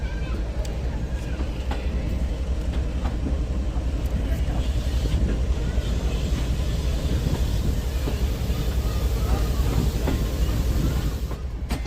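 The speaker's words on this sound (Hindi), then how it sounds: "किस तरीके से ट्रेन इस ट्रैक पर मूव कर रही है" The Shalimar Express rolling over worn track near Hyderabad station in Pakistan, a loud, steady rumble with rattling carriages and faint clicks, heard from on board and continuing throughout.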